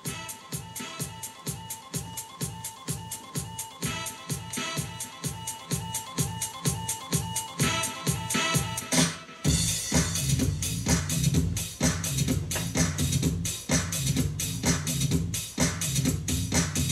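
Music recorded through an American Audio TT Record turntable plays back as a dense electronic track with a steady pulsing beat that drops briefly near the middle and resumes fuller, continuous and moderately loud without talk.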